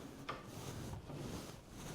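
A kitchen drawer in a house slides open or shut with a brief, soft wooden rub near the start, followed by quiet room tone.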